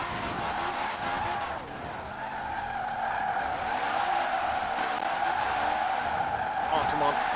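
A Citroen 2CV drifting around a course on its second lap, its engine droning steadily with a continuous smeared tire squeal throughout, while people talk over it.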